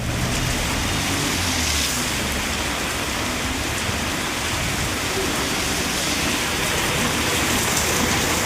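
Steady, dense rain pours down outdoors, making an unbroken hiss of drops on surfaces. It stays at an even level throughout and there is no talk over it.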